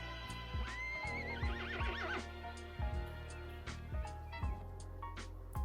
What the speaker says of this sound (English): He hears the horses call